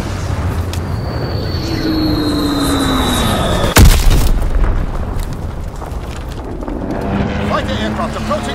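A bomb is dropped in Call of Duty WWII during team deathmatch, a sharp explosive blast cutting through steady engine drone and game noise, with a voice speaking over the action.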